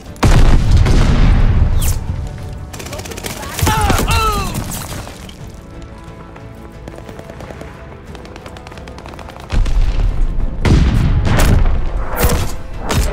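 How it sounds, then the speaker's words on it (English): A grenade blast in Call of Duty Vanguard on the Tuscan map in Patrol mode, a loud close boom among gunfire and crashing debris, with game voice lines and further shooting and explosions throughout. "Grenade!"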